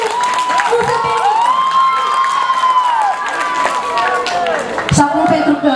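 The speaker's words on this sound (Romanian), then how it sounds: "cred că merită aplauze" A crowd at a live outdoor concert in a village cheers loudly and continuously, with whoops, shouts and some clapping blended into a dense, near roar, and a voice calling out near the end.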